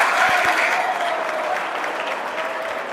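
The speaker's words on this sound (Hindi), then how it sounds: "जोरदार तालियां" An audience at a youth anti-drug awareness event breaks into loud, sustained applause, a dense wash of clapping that fades slightly toward the end.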